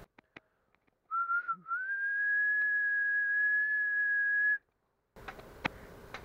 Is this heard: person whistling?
yes